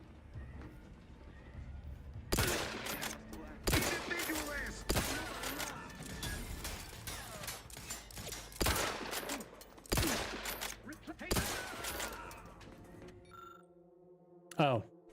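Gunfire in the video game The Outer Worlds 2 comes as several loud, close bursts of rapid shots, spaced a second or two apart over a low background, with short quiet gaps between volleys.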